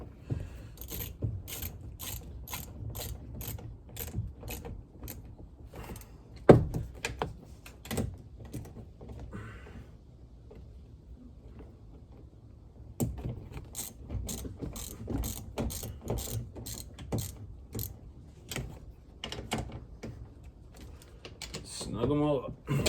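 A ratchet snugs the mirror bolts on a Honda Ridgeline in quick clicking bursts, close and distinct, pausing for a stretch of quieter handling before the clicking resumes, with talk at times.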